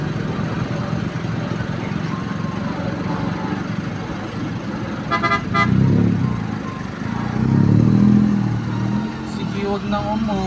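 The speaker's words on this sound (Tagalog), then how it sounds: "Yan nyo guys, napaka-traffic." Heavy road traffic along a seaside road, a steady rumbling wash of engines close by, with a horn beeping briefly in the middle and swells of passing vehicles, while people chat over it.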